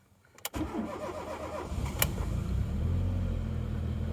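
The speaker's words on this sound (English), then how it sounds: "let's fire it up and see what it sounds like" A 1993 Ford Mondeo Mk1 engine starting: the starter cranks briefly, the engine catches, and it settles into a close, steady idle.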